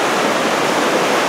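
A large river rushes steadily in the Canadian Rockies near the Cascade Valley trail, a loud, continuous broadband roar of flowing water heard up close with no other sounds.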